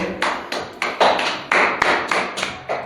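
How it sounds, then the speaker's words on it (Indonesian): A classroom of students gives short applause after a classmate's answer during a microteaching lesson, coming as a series of distinct clap bursts and taps, fairly close and loud, with no talking over them. "Beri tepuk tangan dulu."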